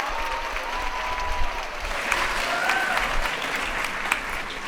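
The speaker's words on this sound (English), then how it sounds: "let's give a round of applause to everyone." Audience applause at a faculty recognition ceremony, a steady wash of clapping from a sizeable crowd that holds evenly throughout with a few sharper claps standing out.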